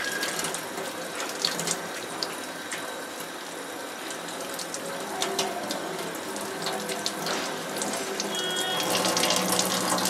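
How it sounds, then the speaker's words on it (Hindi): Water poured steadily over potting soil to soak it for growing coriander, a continuous splashing trickle with faint clinks, fairly close and alone, swelling slightly toward the end. "पूरा इसको पानी से मैं जो है वो भिगाने वाला हूँ"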